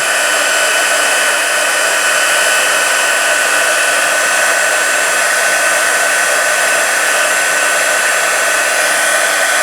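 A heat tool blows hot air steadily onto embossing powder to melt it, giving a loud, continuous hiss-and-whir like a hair dryer, unbroken for the whole stretch with no talking.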